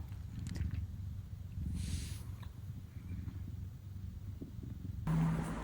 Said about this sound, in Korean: 집중하시면 땅콩이의 골골골거리는 소리가 들려요